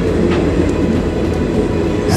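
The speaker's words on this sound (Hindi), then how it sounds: "अभी पैरेलल रन हो रहा है हमारी इस ट्रेन का।" A Garib Rath Express train runs alongside another train, giving a dense, continuous rumble and rattle close by.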